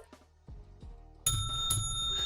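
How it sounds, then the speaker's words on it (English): A hand bell rung during a live NBA play-by-play stream of the Los Angeles Lakers against the Denver Nuggets after a made three-pointer, two bright ringing strikes close up over low room noise. "I'm supposed to ring the bell on threes"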